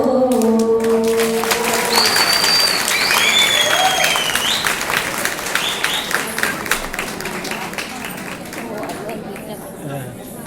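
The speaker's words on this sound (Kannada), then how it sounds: "ಅದರ ಚಪ್ಪಾಳೆ ಜೋರಾಗಿ ಬಂದಿಲ್ಲ" Audience applause at a stage performance after a devotional mangalam song, dense clapping from a crowd with some chatter and a brief tone at the start, gradually thinning and fading toward the end.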